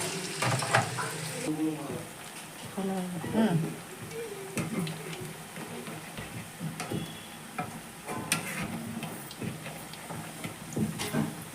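Cauliflower pieces for gobi manchurian frying in hot oil, with steady sizzling and occasional stirring clinks of a utensil against the pan, under a person talking.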